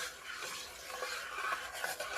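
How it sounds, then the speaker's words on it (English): Thick homemade play dough is stirred in a pot with a close, continuous scraping and squelching sound. "So your job of stirring this all the time while this is sort of being made, it's really important"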